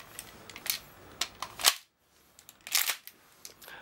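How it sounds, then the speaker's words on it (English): A Tokyo Marui MP7 airsoft gun fires single shots as sharp clicking snaps, several in an uneven series that break off briefly and then resume, close and fairly quiet. "I'm just going to do two magazine dump tests on single fire"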